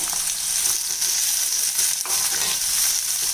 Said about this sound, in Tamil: இப்போ எண்ணெய் காஞ்சிருச்சு இப்போ கத்திரிக்காய் இதில் சேர்த்துடலாங்க